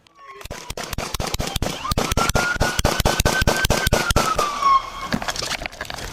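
A rapid, evenly spaced volley of loud sharp gunshots during a police chase, about twenty cracks in quick succession, with a rising whine or siren-like tone underneath before the shooting stops.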